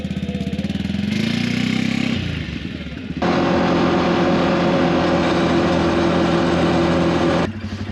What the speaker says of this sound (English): I don't even think I want to go through that in the quad bike.